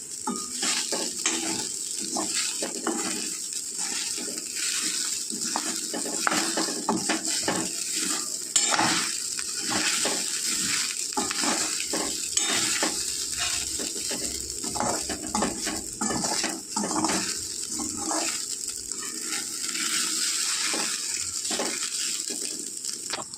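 Sabudana tapioca pearls roast in a pan over low heat with crushed peanuts, a steady dry rustling sizzle and frequent scraping stirs that run without a break and without any talk.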